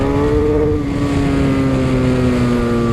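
A 2017 BMW F800R motorcycle engine is held at about 6000 rpm, a loud continuous drone with steady harmonic tones and a slight pitch drift, heard alone.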